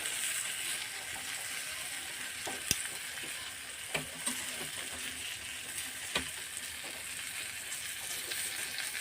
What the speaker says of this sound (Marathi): साईडने आपण याला तीन तीन मिनटं चांगलं मस्त असं फ्राय करून घेतलेलं आहे